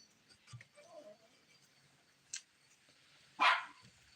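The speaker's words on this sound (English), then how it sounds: "Mom's Chihuahua is going mad." Chihuahua barking in the distance, a few faint, sharp yaps scattered over a quiet outdoor background, with the loudest burst near the end.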